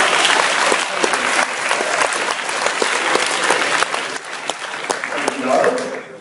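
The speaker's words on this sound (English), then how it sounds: "Round of applause." Sustained audience applause at a university last lecture event, dense and steady clapping from a large crowd filling the room for about six seconds.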